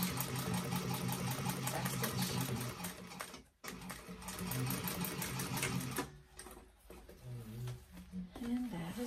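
A sewing machine runs in steady rapid bursts while back stitching a bag seam for a Violetta bag, stopping briefly partway through and then resuming, close and loud throughout.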